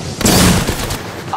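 Gunfire bringing down a cargo bot in the Apex Legends video game, a sharp loud burst of shots and impact lasting under a second, then a brief quieter tail.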